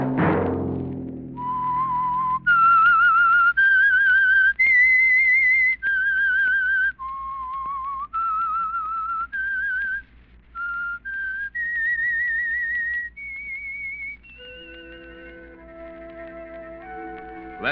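A whistled theme tune from The Whistler, the Signal Oil mystery radio program, rises and falls in a clear, steady melody of sustained notes, sounding alone and close after a brief low musical chord.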